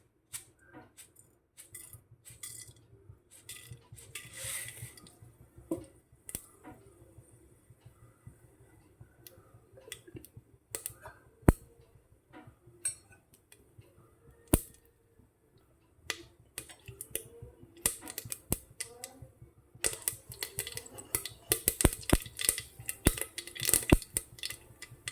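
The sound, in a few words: mustard seeds spluttering in hot coconut oil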